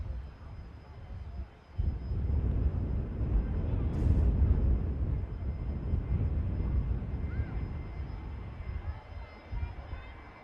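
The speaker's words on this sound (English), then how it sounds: "a couple of the aircraft making their way over now" Aircraft engines rumbling at Manchester Airport, a low steady roar rising after a quiet start and holding at a moderate distance, slowly fading toward the end.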